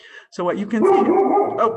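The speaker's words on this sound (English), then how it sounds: "sorry, that's my dog." A pet dog barks and whimpers indoors, several close, loud yelps heard alongside someone speaking.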